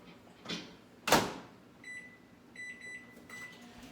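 Microwave oven cooking fish, with a door thump and a few soft electronic beeps over a quiet background hum.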